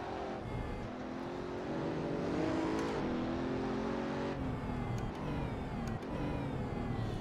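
A powerful race car engine in the Assetto Corsa sim running a lap, sustained loud engine drone rising and falling through gear changes and revs, alone without voices.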